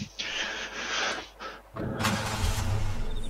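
A car engine in the video game DayZ cranks and catches, then settles into a loud, close running roar after a brief quieter moment.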